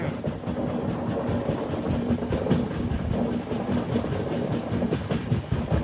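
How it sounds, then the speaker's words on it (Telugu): A Secunderabad to Goa passenger train winds through tight curves on a ghat section near Dudhasagar, giving a steady, continuous rumble of wheels and carriages with faint rhythmic clatter, fairly close and unbroken throughout. "టర్నింగ్ల మీద టర్నింగ్లు కొడుతుంది మన ట్రైన్."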